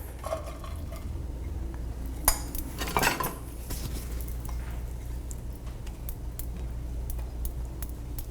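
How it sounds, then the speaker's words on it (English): Chicken sizzles in a pan on a stove at low heat, a steady close frying hiss with clinks of a utensil against the pan and a couple of louder stirring scrapes, no talking. "You'll probably hear it sizzling."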